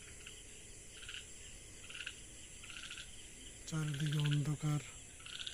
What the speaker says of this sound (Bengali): ব্যাং ডাকতেছে।